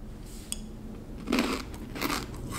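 Crunchy freeze-dried Skittles bitten close to the mic, giving two loud, crackling crunches with short pauses between them and no talking.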